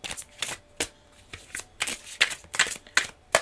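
A deck of tarot cards is shuffled by hand up close, making a run of crisp, papery riffling bursts in an uneven rhythm.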